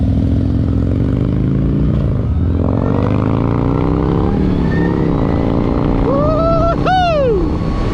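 Harley-Davidson LiveWire electric motorcycle ridden on a demo test ride, a steady loud rush of wind and road noise with a rising whine that sweeps upward near the end as it accelerates.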